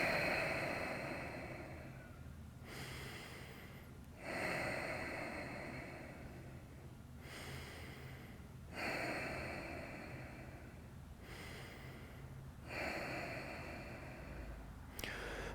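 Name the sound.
deep breathing during yoga pose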